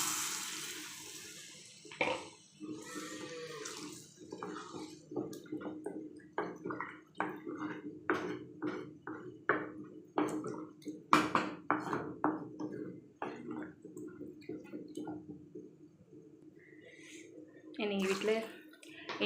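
Water is poured into a pan of sautéed kara kuzhambu, a Tamil tamarind curry, giving uneven bursts of splashing and sizzling with a few clatters, fairly quiet overall.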